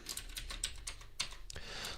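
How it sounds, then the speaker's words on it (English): Someone types on a computer keyboard, a quick uneven run of close, light key clicks and taps with a few louder strikes, over a faint low background hum. "So I'm going to start by typing string utilities,"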